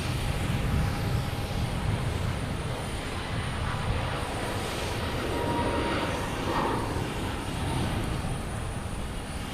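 Jet airliners at Logan Airport, a steady broad engine roar from taxiing or passing planes that holds throughout at moderate distance, with no talk.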